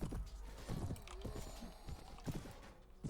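Rapid hoofbeats clatter in a steady galloping rhythm during a battle in Mount & Blade: Warband, mixed with game sound effects and a brief whinny-like tone.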